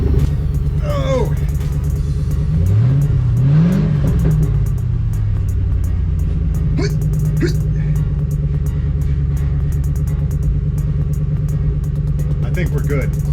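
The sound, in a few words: Crown Victoria race car accelerating on asphalt track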